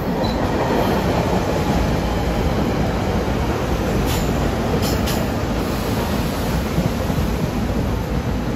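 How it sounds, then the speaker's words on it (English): A SEPTA Regional Rail train bound for Warminster rumbles past close by, with loud, steady broadband wheel and rail noise throughout and a few faint high squeals. "Here's train 444 bound for Warminster."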